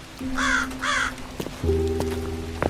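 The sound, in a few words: raven cawing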